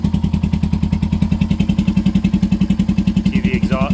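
A Suzuki Savage hardtail motorcycle with dual exhaust idles close by in a steady, even lumpy putter, with a faint higher whine near the end.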